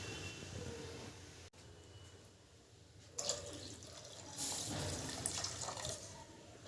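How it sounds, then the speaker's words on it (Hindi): Water pours steadily into a cooking pot, a rushing splash that swells louder partway through, with a low background rumble. "अब मैं इसमें पूरा पानी डाल दूंगी।"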